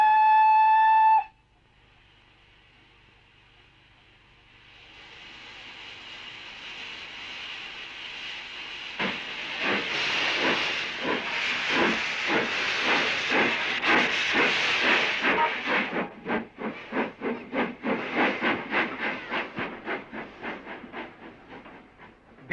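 A steam train pulls into a station: a brief whistle tone, then a long rising hiss of steam building loud, breaking into rapid rhythmic chuffs and clanks that slow near the end, with no voices.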